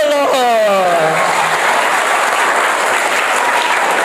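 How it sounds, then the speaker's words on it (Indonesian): A church congregation breaks into applause, dense clapping that continues steadily for several seconds after a preacher's voice trails off at the start. "Tepuk tangan dulu."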